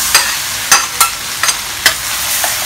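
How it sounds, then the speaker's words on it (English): Three whole bulbs' worth of chopped garlic frying in hot oil, with a steady sizzle and a handful of sharp scraping stirs spaced irregularly, close and fairly loud, no voices. "I'm going to fry the garlic bits"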